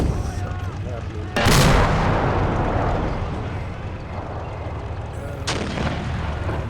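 Artillery fire booms in a World War II Market Garden battle video game, with a sharp heavy blast that lingers as a loud rumbling roar, set against a continuous din of distant gunfire and battlefield noise, then a second report.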